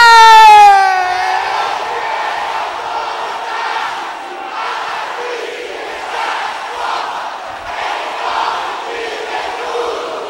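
A church congregation at an Assembly of God service lets out a loud collective shout with a rising, wavering tone at the start. It fades into a lingering crowd roar of mixed voices that rises and falls.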